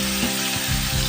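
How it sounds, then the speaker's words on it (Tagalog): Meat for Bicol express is sautéed and fried in a pan, giving a loud, steady close-up sizzle with a few soft stirring scrapes and no talk. "igigisa lang po natin yan. Medyo ipiprito natin siya"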